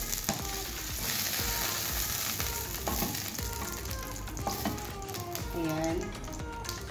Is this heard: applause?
no